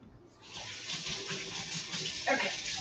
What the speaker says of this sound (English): you'll have to excuse me for a second while I just give my hands a rinse